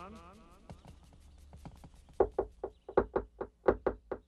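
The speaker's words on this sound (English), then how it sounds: "That's us knocking." In a cartoon, someone knocks on a bedroom door. A voice speaks first, then about eight quick, fairly loud knocks land in a steady rhythm.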